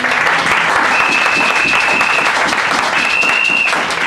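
A church congregation applauds and acclaims the Lord, loud steady clapping filling the room throughout, with a high sustained whistle-like tone rising above it twice.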